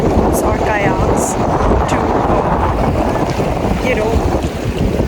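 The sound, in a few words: strong wind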